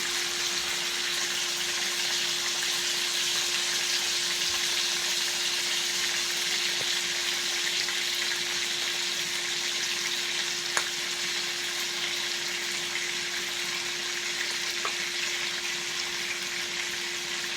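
Hamburger steaks fry in a pan with a constant, even sizzle and crackle, steady and close, with a couple of sharp clicks as the patties are flipped, and no talking.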